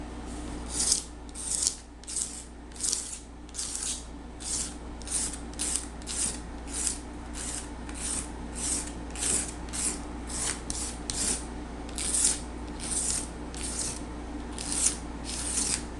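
Material being scraped off a wooden subwoofer box with quick, regular rasping strokes, close and fairly quiet, repeating in a steady rhythm of roughly two strokes per second.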